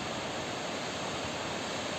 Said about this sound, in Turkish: Suyun sesi dinlendirici